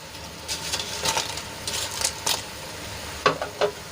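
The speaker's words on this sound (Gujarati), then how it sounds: "એમાં આપણે કટકા કરેલા પાપડ એડ કરી લઈશું શેકેલા" Roasted papad pieces are stirred into a simmering gravy, giving a soft bubbling hiss. Scraping and stirring strokes come close, in irregular short bursts, with a few sharper clinks near the end.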